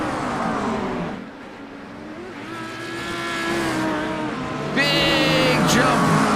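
GT4 race cars racing at the Monza circuit, engines droning and shifting in pitch as several cars pass close by. A loud rising roar builds near the end, with race commentary faintly under the engine noise.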